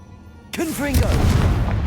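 Confringo fire-blast spell explosions in the Hogwarts Legacy video game, a sudden loud burst followed by a booming rumble, with a voice calling out spell names over it.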